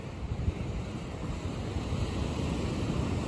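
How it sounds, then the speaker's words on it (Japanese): Ocean surf breaks against the rocky shore at Cape Muroto in Kochi, a continuous low, heavy wash of waves mixed with wind buffeting the microphone, close and fairly loud with no voices. "やっぱりこの波がすごい。"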